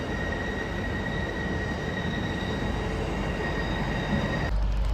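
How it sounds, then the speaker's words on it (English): LNER Azuma train from Edinburgh Waverley pulling into Newcastle station, a loud steady rolling rumble with a high squealing tone from the wheels, continuous throughout and ending with a sharper clunk. "Arriving in now is a LNER Zoomer service from Edinburgh Waverley, terminate here at Newcastle"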